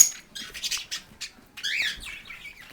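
Several pet birds chirp and squawk inside a cage, a busy run of short bright calls and a few rising whistles, close and fairly loud with no voices over them.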